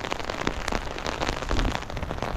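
Rain patters steadily on the ground and nearby surfaces during an outdoor walk, a soft continuous hiss with scattered drop impacts, fairly quiet and with no voices.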